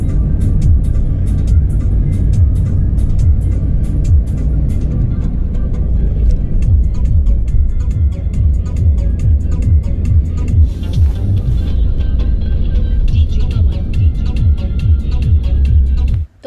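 Steady loud road rumble fills a car's cabin during travel, low engine and tyre drone running unbroken with faint rattles, cutting off abruptly at the end.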